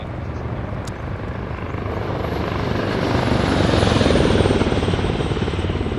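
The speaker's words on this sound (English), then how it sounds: "That was a helicopter." Helicopter rotor thudding steadily overhead during an Arma 3 military game session, a loud continuous chop that swells slightly louder toward the end with no pause.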